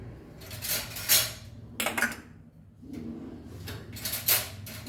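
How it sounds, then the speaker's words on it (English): Goan moringa leaf bhaji stirred in a metal pot on a gas stove, with scraping and clanking of a spoon against the pot in bursts, close and fairly quiet, no talking. "Then we'll mix this and leave it on the gas."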